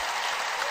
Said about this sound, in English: Let's give him a roaring round of applause